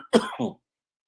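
A single person coughs after a cough drop goes down the wrong way, two quick harsh throaty bursts, close and fairly loud, followed by silence.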